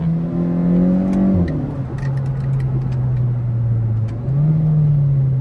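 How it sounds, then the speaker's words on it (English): Kia Forte GT engine revving as it downshifts with paddle shifters, a steady loud drone that drops in pitch, then rises again sharply as the revs climb, heard from inside the car with no talking. "That's a downshift"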